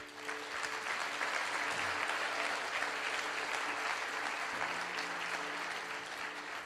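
Sustained applause from a large audience at a motivational speaking event, steady and dense clapping that fills the whole stretch without letting up.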